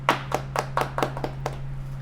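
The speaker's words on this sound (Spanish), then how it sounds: "antes un fuerte aplauso" About eight sharp, evenly spaced hand claps ring out alone at a podcast's opening, tapering off after a second and a half, with a steady low electrical hum underneath.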